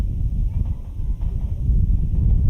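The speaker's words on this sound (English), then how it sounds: "Wind is about 20 miles an hour, gusting." Gusty wind of about 20 mph buffets the microphone in a continuous low rumble that swells and dips.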